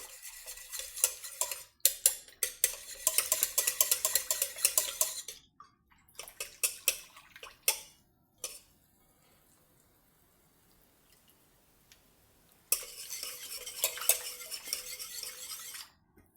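A utensil clinks and scrapes rapidly against a container while stirring sourdough starter into warm water, in bursts with quiet pauses between, close and fairly loud.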